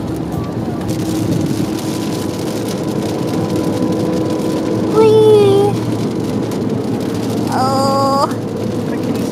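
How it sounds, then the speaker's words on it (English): Steady rain falls in a constant hiss throughout, with short excited vocal exclamations and a brief whistle-like voice rising above it. "And it's raining."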